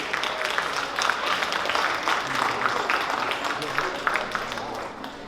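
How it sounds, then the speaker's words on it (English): Audience at a Hindu and Jain temple cultural program in Las Vegas applauds volunteers and sponsors, a steady dense wash of clapping filling the hall for several seconds. "please give a round of applause to all the volunteers, all the sponsors that have made this possible this evening"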